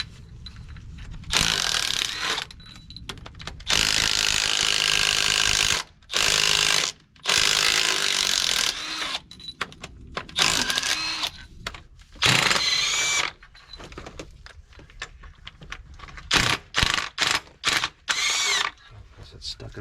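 Impact wrench working rusted exhaust manifold bolts loose on an in-frame engine rebuild of a cabover truck, loud repeated hammering bursts of varying length separated by short pauses.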